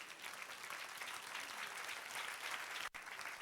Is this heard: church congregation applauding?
yes